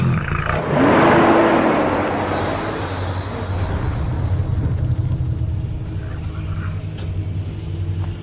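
A vehicle on safari with a truckload of wildebeest roars off nearby, a loud surge of engine rumble that fades into a steady, lower drone as it drives away.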